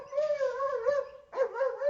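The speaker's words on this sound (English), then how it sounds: "she went to find out more about military working dogs" A military working dog howls in two long, wavering, tonal bursts with a brief break between them, close and clear with no talk over it.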